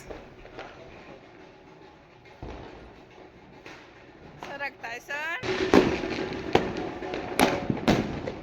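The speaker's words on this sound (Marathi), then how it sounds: "आमच्या घरच्यांनी चालू केलं होतं फटाके फोडायला" Diwali Lakshmi Puja firecrackers set off by a family at home: faint distant pops at first, then louder sharp bangs and crackling bursts, with voices in the background.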